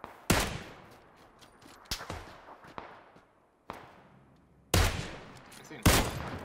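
Gunfire in a video game sniper event sounds as five loud, sharp shots at uneven spacing, each one trailing off in a long echoing decay.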